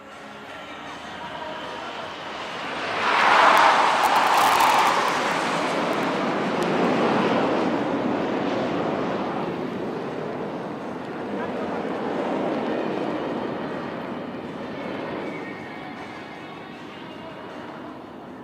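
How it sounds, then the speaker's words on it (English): Indian Air Force display aircraft cross each other in a low flypast over Chennai's Marina Beach. A broad jet roar swells sharply for a few seconds, then lingers as a steady wash under wind noise and crowd voices. "These aircraft will now be crossing each other right in front of you"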